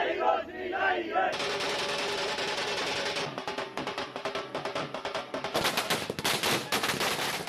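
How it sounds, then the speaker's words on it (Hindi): Firecrackers bursting during a street celebration for the Congress party: dense, rapid crackling volleys that keep going with only brief pauses, loud and close, with crowd noise mixed underneath. "शहर शहर पटाखे जल रहे हैं।"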